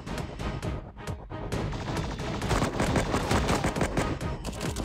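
Dense, continuous automatic gunfire from the Cover Fire mobile shooter game, rapid bursts packed together at steady loudness throughout, with no talk over it.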